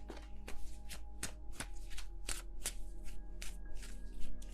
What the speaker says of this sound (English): Can I please shuffle my cards?